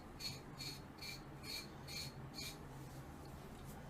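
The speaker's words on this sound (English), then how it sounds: "So you see I was just scraping there?" Repeated scraping of dry, flaking psoriasis skin on the back of the calf, six quick raspy strokes in a steady rhythm, close and fairly quiet, then fading to faint background.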